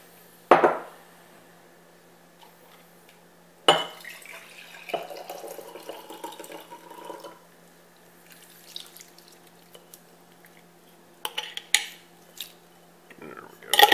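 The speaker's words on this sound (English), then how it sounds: "I need a spoon to get them all out of there." A spoon clinks and scrapes inside a glass jar while scooping out pepper rings, with sharp metallic taps and wet rattling spread across a quiet kitchen background.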